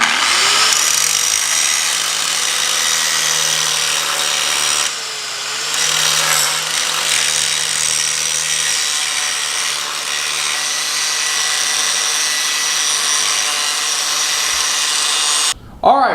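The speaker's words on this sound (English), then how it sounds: "we got the angle grinder out and trimmed off the little corner of the block there" Angle grinder cutting the corner off an engine block during a 12-valve Cummins swap into a Ford F350 pickup, a loud continuous high grinding whine running almost unbroken for the whole stretch, with brief dips and a short stop near the end.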